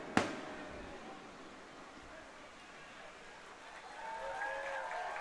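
Fireworks over an outdoor baseball stadium during a night game: one sharp, loud bang at the start, followed by a long crackling, hissing tail with faint whistles and scattered pops near the end, under a steady crowd murmur.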